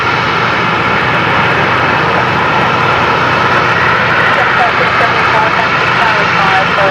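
An Emirates Airbus A380 jet taxis at Brisbane Airport, its engines producing a loud, constant broadband roar with a rising whine, heard up close and filling the whole span.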